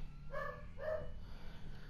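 A dog barks twice in quick succession, faint and somewhat distant, over a low background hum with no talking.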